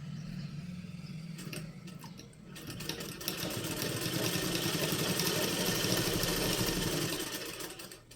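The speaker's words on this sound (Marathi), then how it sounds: "तर आपण इथे दाब शिलाई मारून घेत आहे" A sewing machine topstitches a decorative hem design on a pant leg, its motor whirring in a fast, continuous rattling run that starts after a brief pause and grows louder and steadier toward the end.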